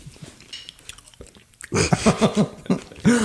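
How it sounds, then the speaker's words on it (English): Someone chewing food close to the microphone, soft wet mastication in the first half building to louder rhythmic munching with a few crunchy bites. "I have been chewing the whole time."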